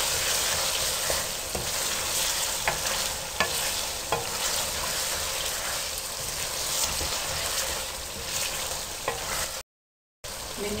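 Okra fries and is stirred in a pan, making a constant loud sizzle broken by scattered scraping clicks of the spoon, with a brief cut to silence near the end.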